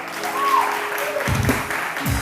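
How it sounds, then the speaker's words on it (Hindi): A studio audience on a television morning show breaks into brief applause, fairly soft clapping that follows a moment of speech. "किरण के लिए बहुत सारी तालियां"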